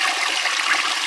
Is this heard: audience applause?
no